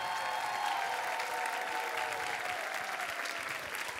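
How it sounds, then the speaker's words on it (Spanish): Sustained audience applause for singers Alanis and Fabiola after a battle-round duet on The Voice, a steady, fairly soft wash of clapping with faint crowd murmur and lingering musical tone underneath. "Fuerte el aplauso para Alanis y Fabiola."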